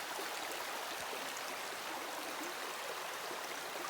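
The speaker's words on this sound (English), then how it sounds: "We're hanging out in the creek a minute and letting that water soak on our feet." Creek water flows steadily at a stream crossing in the Great Smoky Mountains, a close, constant broadband rush and babble with no talk over it.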